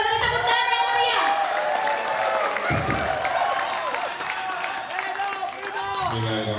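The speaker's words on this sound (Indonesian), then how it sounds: "Kita beri tepuk tangan yang meriah" An audience at a Jakarta campaign event for Ridwan Kamil bursts into loud applause and cheering, a dense wash of clapping and crowd noise with voices and music mixed in.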